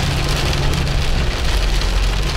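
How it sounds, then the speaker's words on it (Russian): Heavy summer rain pours down nonstop, a loud, dense, even hiss of drops with a low rumble underneath and no voices. "и дождик лупанул"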